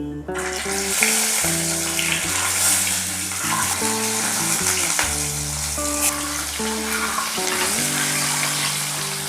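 Eggs and potatoes fry together in hot oil seasoned with salt and turmeric, a continuous loud sizzle with occasional stirring scrapes over background music.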